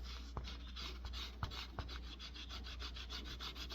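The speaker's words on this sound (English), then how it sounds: "I can rub it like this on the edges" Steady, faint rubbing on the edge of a dirty coin being cleaned by hand, a continuous scratchy friction with a few soft clicks as fingers shift their grip.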